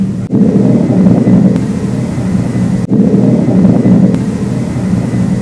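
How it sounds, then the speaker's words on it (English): Steady, loud roar of an airplane passing overhead, a broad continuous rumble with no voices. "there's a plane going by"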